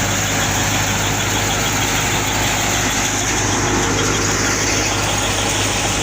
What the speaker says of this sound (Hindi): ट्रैक्टर है